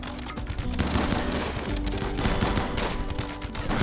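Rapid gunfire from a colony battle in RimWorld crackles in dense, overlapping bursts, a loud continuous fusillade with no talking over it.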